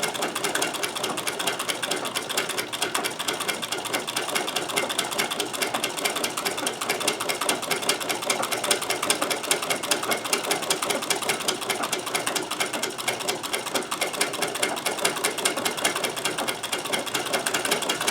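A sewing machine stitches a buttonhole on a removable shirt collar or French cuff, going around twice in a steady, fast, continuous whirring run that stays loud and even the whole time, with no talking.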